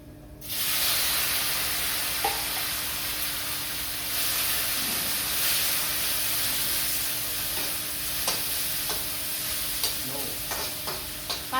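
Vegetables with okra, onion and tomato fry in a hot pan, a steady loud sizzle with intermittent scraping and clinks as they are stirred, no talking heard.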